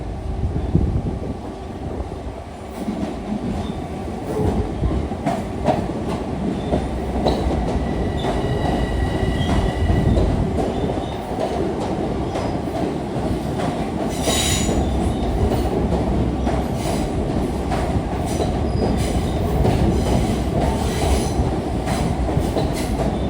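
A Long Island Rail Road train moves through Jamaica station during the evening rush, with continuous loud rumbling, rolling wheel noise and intermittent high squeals and clicks throughout.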